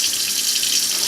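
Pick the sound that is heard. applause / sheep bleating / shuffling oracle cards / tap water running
tap water running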